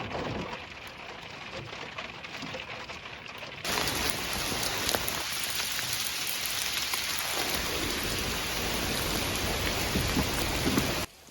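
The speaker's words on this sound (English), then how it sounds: "I'm under a tree, so it's barely raining right here" Rain falls steadily at a campsite, a soft patter that suddenly swells into a heavier, louder downpour hissing on surfaces, with distant thunder.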